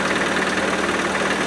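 A stone-cold Land Rover 90 engine idles steadily on choke on a morning near three degrees, a loud, even mechanical drone with a faint knocking texture and no voices.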